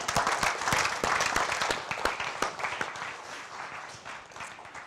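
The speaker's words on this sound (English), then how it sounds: "So round of applause for Shannon." An audience at a real estate agents' summit applauds a speaker, with loud, crisp individual claps in a dense, fairly close burst that gradually thins and softens over several seconds.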